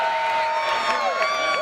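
A fight crowd in an arena for Matt Serra versus Eve Edwards, on their feet and cheering and whooping loudly in a continuous swell, with voices shouting over one another.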